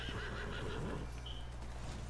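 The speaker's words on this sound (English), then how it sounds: "I'll just need to call my horse real quick." A horse in the Ghost of Tsushima video game neighs when called, a loud, clear whinny rising and falling over a steady low background hum.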